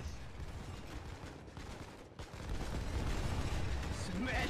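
Artillery guns firing in a Foxhole battle: a dense, rumbling barrage of rapid mechanical thumps and clatter, steady and moderately loud, swelling stronger after a brief dip midway.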